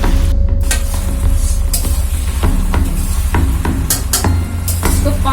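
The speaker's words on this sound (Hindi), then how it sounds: "बराबर चलाएंगे, जिससे हमारी मैक्रोनी अच्छी सी नीचे भून जाए बढ़िया से।" Macaroni is stirred and roasted in a hot pan, with a steady loud sizzle and repeated scraping and clinking strokes of the spoon against the metal.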